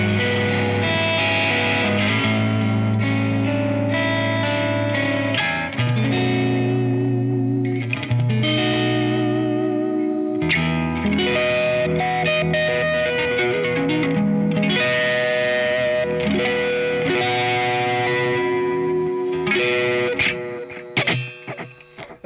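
An electric guitar played through a Crazy Tube Circuits Hi Power overdrive pedal with the guitar volume rolled back rings out loud in sustained, mildly driven chords and riffs, ending with a few quick strums.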